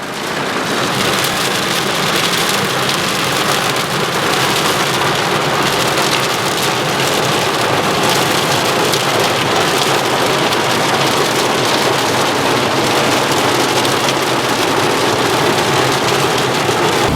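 A thunderstorm over Lesser Poland: heavy rain pours down steadily and loudly throughout, a dense continuous roar with deep rumbling beneath suggesting thunder.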